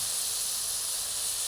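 Chicken meat frying in a wok for chow mein, cooked down until dry and browned, giving a steady, close, continuous sizzling hiss with no talk over it.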